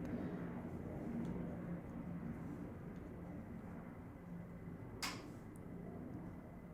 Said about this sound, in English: Sorry, there's a big airplane going over.